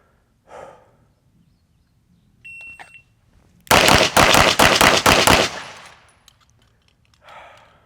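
Rapid string of pistol shots fired during a trigger-control shooting drill, about a dozen sharp loud cracks packed into under two seconds, with a faint beep and quiet breathing before and after.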